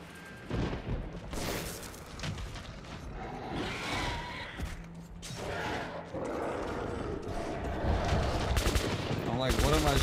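Gunfire in the video game Metro, repeated bursts of shots mixed with game noise and dense action sound, fairly loud throughout the scene.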